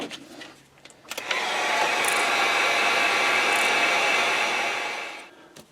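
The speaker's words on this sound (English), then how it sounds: "Now I'm going to take the heat gun or take your hair dryer, whatever you have." A hair dryer switches on and blows on wet paint with a steady, loud whooshing hum for several seconds, then winds down and stops.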